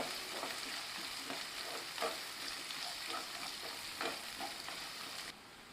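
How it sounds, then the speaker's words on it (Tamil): Chopped onions sizzle steadily in a hot pan while a spoon scrapes and stirs them at irregular intervals. "ஒரு அரைப்பிடி பெரிய வெங்காயம் நறுக்கினது இது எல்லாத்தையும் நல்லா வதக்கிடலாம்"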